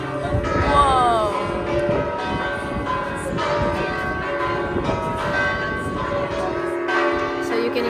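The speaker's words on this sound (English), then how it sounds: "So you can hear the bell." Church bells ring at noon at Siena Cathedral, loud and close, with rich overlapping tolls over wind and outdoor ambience. Faint voices sit in the background.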